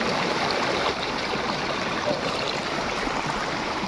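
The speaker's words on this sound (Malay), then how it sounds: "Kita ambil air dulu dalam akuarium." Water pours and rushes steadily and loudly as it is scooped into an aquarium outdoors, a continuous close splashing flow with no speech.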